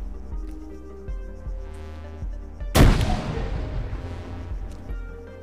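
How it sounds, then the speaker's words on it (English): A grenade in a video game mission detonates with one loud sudden blast about midway and a rumbling decay, after a few quieter rhythmic thumps and a steady tonal hum. "Throw a grenade in there."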